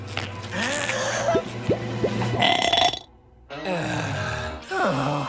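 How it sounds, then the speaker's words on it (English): A cartoon character lets out long, gurgling, exaggerated burps in a series of loud bursts, with a brief quiet gap between them. "I'll never master the fabled sonic burp."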